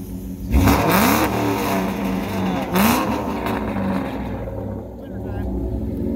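A Ford Mustang S550 engine with a small muffler revs hard twice in quick bursts, loud and close, then settles to a rough idle with people talking over it.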